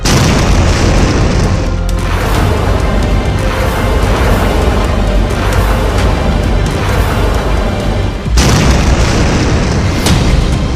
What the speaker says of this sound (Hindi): जब ईरान की ये मिसाइल अपने टारगेट पर गिरती है तो धमाका ऐसा होता है।